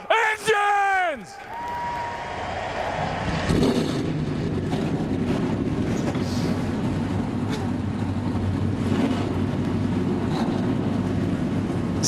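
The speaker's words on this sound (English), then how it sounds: "Drivers, start your engines!" A loud crowd roar swells first at Daytona, then a sustained low engine rumble builds and holds steadily as NASCAR race cars start their engines and idle together.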